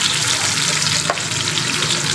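Ash gourd coated in mustard paste frying over medium heat, a dense, steady, loud sizzle that hisses evenly throughout the short stretch, with one brief sharper crackle midway.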